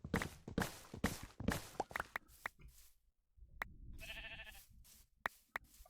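Sheep bleating in the Minecraft video game, a few short bleats mixed with blocky footstep clicks and taps, fairly close and moderately loud, with no talking.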